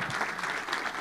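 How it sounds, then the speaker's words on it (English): A conference audience applauds a speaker steadily, a dense patter of many hands clapping at once, fairly close and continuous for the whole moment. "Let's give it an applause for Jared."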